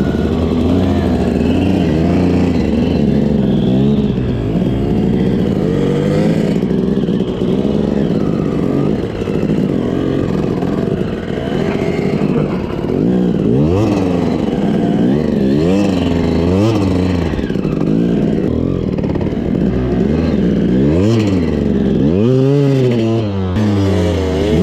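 Modified KTM motorcycle engine revving hard while riding, loud and continuous with rising and falling pitch sweeps as the throttle opens and closes, a sharp rev climb near the end.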